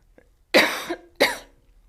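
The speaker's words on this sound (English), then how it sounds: "My apologies for the cough." Two sharp, close coughs in quick succession, each a harsh burst that trails off, set against near silence.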